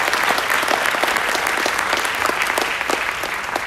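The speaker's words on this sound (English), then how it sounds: "So can we give them a round of applause," Dense, loud audience applause at an aviation gubernatorial town hall, many hands clapping steadily for the whole stretch.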